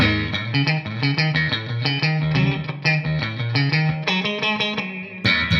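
Electric guitar through a Steel String Singer amp with a clean live tone and a big, thumping low end, played as a steady run of punchy notes and chords, loud and alone with no talk.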